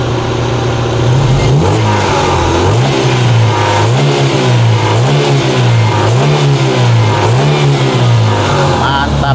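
An Opel Blazer engine with a semi-open aftermarket exhaust revs repeatedly in a steady rhythm, loud and close, rising and falling about every second over a rumbling idle.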